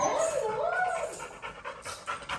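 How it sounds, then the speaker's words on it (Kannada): A dog pants rapidly and steadily, close by, with a brief whining tone at the start and faint voices in the background. "ಸ್ವಲ್ಪ ಟ್ರೈನ್ಡ್ ನಾಯಿ ಇದು ಟಾಮಿ"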